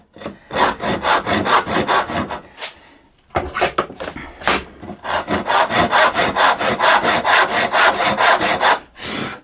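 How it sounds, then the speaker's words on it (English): Sharp hand saw cutting wood for a mitred half-lap joint: loud, rhythmic rasping strokes in quick succession, with a brief pause before the sawing resumes at a steady pace. "let the saw do the work. Make sure you got a nice sharp saw."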